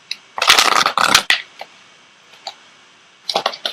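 An Ascended Masters oracle deck is shuffled in quick riffling bursts, close and crisp, followed by a few soft card taps and slides as one card is drawn.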